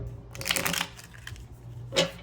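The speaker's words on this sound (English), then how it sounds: "Shuffle twice, they said." Tarot cards are shuffled by hand in a quick riffling burst, then a brief pause and a second short flurry, close and crisp with no speech.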